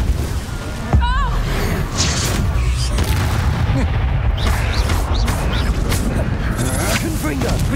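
Explosive Confringo spell cast in Hogwarts Legacy, a sharp booming burst followed by a rumbling blast, loud over continuous game combat noise with a voice calling out in-game.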